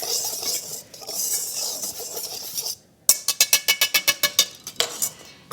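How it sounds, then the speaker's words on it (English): Dry ingredients, flour and a pinch of baking soda, stirred together in a bowl for sour cream bread with sprouted spelt flour; a steady scraping swirl gives way to a quick run of rhythmic clinking taps of the utensil against the bowl. "I'm going to be mixing this, all dry ingredients together"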